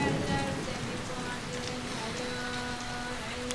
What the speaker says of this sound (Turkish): yine yağmur yağıyor